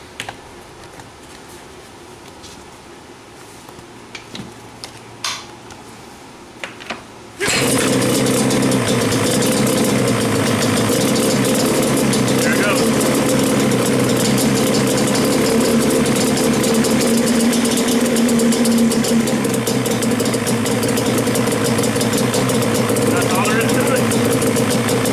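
Banshee 350 ATV engine starting after a quiet stretch with faint clicks, then settling into a loud, steady, rough idle close by that runs to the end without a break.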